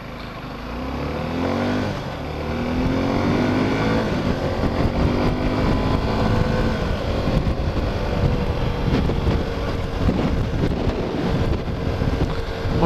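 A small 250cc adventure motorcycle accelerates hard on a test ride, its engine note climbing through the gears beneath heavy, steady wind roar buffeting the rider's microphone.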